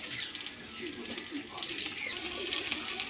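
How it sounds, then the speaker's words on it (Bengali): Watery poppy-seed paste liquid poured into hot oil in a pan, a steady wet rushing pour with light splashing that runs close and fairly even throughout. "আর পোস্ত বাটার জলটা দিয়ে দিচ্ছি।"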